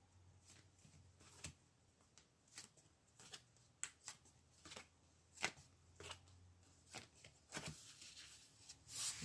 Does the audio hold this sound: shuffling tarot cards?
yes